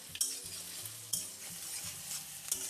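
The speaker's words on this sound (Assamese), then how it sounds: "যেতিয়ালৈকে পিঁয়াজটো হালধীয়া নপৰে তেলৰ গৰমত আৰু কেৰাহীৰ গৰমত আৰু জুই গৰমত তেতিয়ালৈকে আপুনি লাহে লাহে ডুলি থাকিব ভাজি থাকিব" Onions frying in hot oil in a wok, stirred with a utensil: a steady sizzle with sharp scrapes and clicks of the spatula against the pan at intervals, close and fairly quiet, with no voices.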